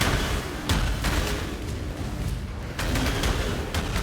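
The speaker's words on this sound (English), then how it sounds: "We get those nice Profane Bloom explosions." Profane Bloom explosions in Path of Exile burst in a dense, continuous barrage of booming hits with sharp repeated impacts, loud and alone without talk.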